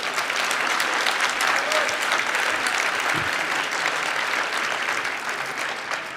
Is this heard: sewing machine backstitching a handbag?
no